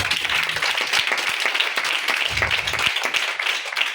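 Audience applause at a school-kit handover ceremony for children, a loud, dense burst of many people clapping continuously, close and lively with a few heavier low thumps.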